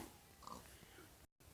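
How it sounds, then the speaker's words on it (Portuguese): A pig in a Minecraft-style video game gives a short, faint oink and snort, a brief low grunt followed by a sudden cut to silence. "Um porco aqui, pessoal."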